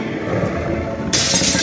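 Glass shattering in the video game The Wolf Among Us, a sudden loud bright crash that bursts in over a steady game soundscape and rings on to the end.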